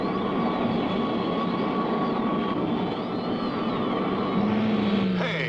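Spaceship abruptly appearing right on top of a space freighter: a steady, loud droning engine roar with high whining tones, swelling and shifting near the end.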